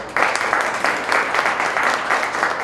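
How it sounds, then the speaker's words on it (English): An audience applauds a former principal dancer of the Kansas City Ballet, a short, steady burst of clapping from a crowd at a cultural talk, heard close and fairly loud with no talk over it. "you're going to get applause too"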